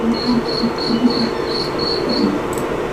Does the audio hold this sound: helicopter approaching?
no